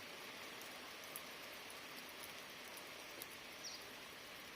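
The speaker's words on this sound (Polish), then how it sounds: "I to całkiem ładny, gęsty deszcz pada." Dense rain falls steadily outdoors, a continuous soft hiss with occasional faint drips, fairly quiet and even, with no voices.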